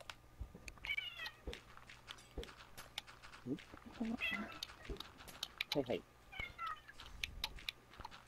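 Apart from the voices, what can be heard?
pet cat meowing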